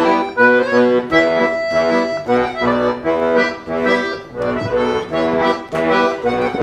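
Gena plays a bayan button accordion live at an apartment-concert late-night show, with full sustained chords pulsing in phrases as the bellows push and pull, loud and close.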